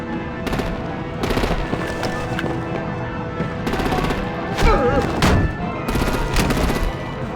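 Bursts of rapid machine-gun fire and heavy blasts rattle in repeated volleys during a fight in Batman: The Enemy Within, loud and close, with sharp whistling sounds mixed in.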